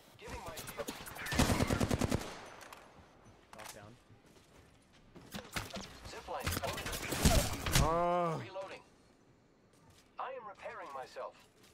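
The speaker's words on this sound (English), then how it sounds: "I am taking fire, friends." Rapid bursts of automatic gunfire in an online shooter game, loud and repeated in several volleys, with players talking over the action between shots.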